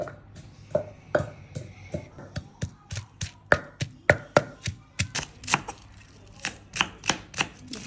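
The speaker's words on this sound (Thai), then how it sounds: "ก็หั่นมันเป็นชิ้นเล็กๆ" Crisp knife chops strike a cutting board as mushrooms are cut into small pieces, in a quick, slightly uneven rhythm, close and clear, with a few louder thumps.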